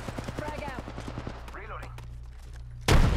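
Gunfire in the Apex Legends arena mode, a fast run of close sharp shots followed by scattered further shots and a loud burst at the end, with game sounds underneath.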